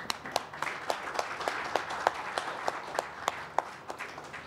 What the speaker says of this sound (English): I think you deserve an applause too.